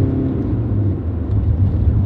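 A slow car held at full throttle near 60 mph gives a continuous heavy engine drone with low rumbling, loud and steady from the cabin, no voices.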